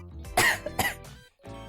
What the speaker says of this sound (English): I don't know when this cough will go away.